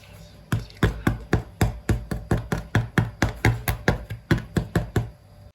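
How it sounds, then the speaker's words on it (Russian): Knuckles tap a freshly baked sourdough loaf about twenty times at an even, quick pace, each knock a crisp, hollow, drum-like thud close up, with no talking. "Вот такой звук должен быть у хлеба после выпечки. Звонкий, как по барабану."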